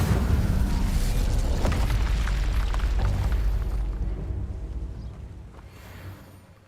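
A heavy, rumbling explosive spell blast in Hogwarts Legacy, loud and booming with a sustained roar that slowly fades away.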